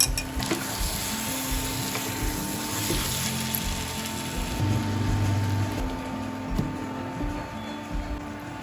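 Chicken pieces go into a pan of well-cooked spiced masala and fry with a continuous hissing sizzle. Occasional soft stirring knocks sit under the steady sputter, and no one talks.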